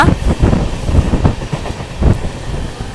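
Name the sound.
passenger train running at high speed, Mysuru to Shirdi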